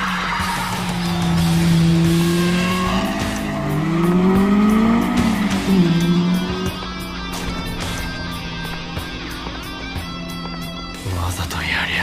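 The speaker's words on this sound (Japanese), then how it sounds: "レッドゾーンまで一気に吹けるこの音" Race car engine from an Initial D street race revving hard toward the red zone, a loud sustained rising engine note with tire squeal and skidding, under overlapping dialogue.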